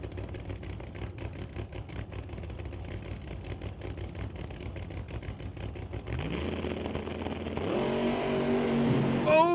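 A Pro Modified drag race car rumbles and idles at a distance, then its engine swells louder into a rising roar as it launches down the drag strip, with the tires shaking.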